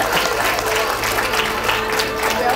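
Students at a school science camp clap together after a sound experiment, a steady wash of close applause lasting a few seconds with faint voices mixed in.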